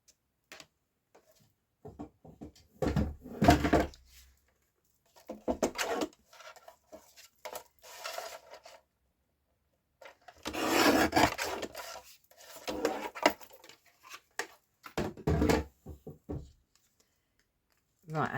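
Cardstock being trimmed for a handmade greeting card, several bursts of rasping, rubbing cutting strokes separated by quiet pauses, close and fairly loud with no voices.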